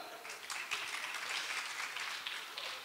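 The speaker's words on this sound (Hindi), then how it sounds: "सो आप लोगों के लिए जोरदार तालियां" Audience applause at a music and entertainment night, a broad wash of clapping heard at moderate distance, steady and fairly quiet throughout.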